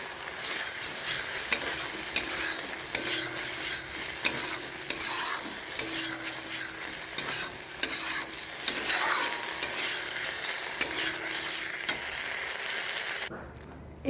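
Boiled peas fry in spiced oil in a pan while being stirred, a close, steady sizzle with frequent scraping and clinking of the spoon, no talk, ending in a sudden near-silence.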